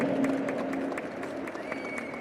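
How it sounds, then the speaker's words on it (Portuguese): An audience at a talk applauds the speaker Renato: a steady wash of many hands clapping from a crowd, fairly loud and continuous, with scattered voices underneath. "Uma salva de palmas para essa figura icônica"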